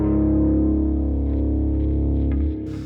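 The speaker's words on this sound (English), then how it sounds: "just using a light overdrive and a light delay, a little bit of reverb, nothing too much" An electric guitar with light overdrive, light delay and a little reverb rings out a sustained chord in a worship song, holding loud and smooth before dropping away near the end.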